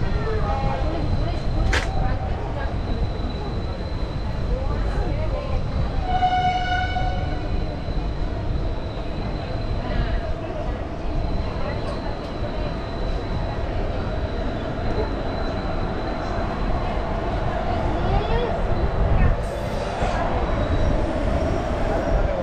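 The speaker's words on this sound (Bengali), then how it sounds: "দশটা 44-এর ট্রেন ছাড়লো হচ্ছে 11টা বেজে 17 মিনিটে আজিমগঞ্জ স্টেশন থেকে" Train running after departing Azimganj station, with a continuous loud rumble of wheels on track, brief high squeals and a horn-like tonal note early on, and talk heard over the noise.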